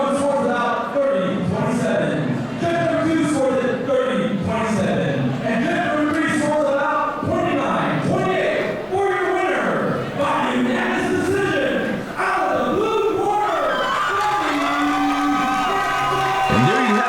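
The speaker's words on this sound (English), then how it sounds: "listen to the fans showing their appreciation for both of these fighters" At a Muay Thai fight showdown, a large crowd cheers, whoops and shouts continuously in an arena, with loud voices close by over the steady roar.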